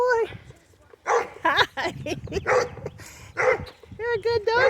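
A dog whimpers and gives short yips and barks close by on a walk, mixed in with a person talking.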